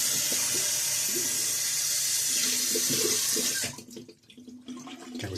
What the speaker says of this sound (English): I'm going to rinse out my bowl and brush.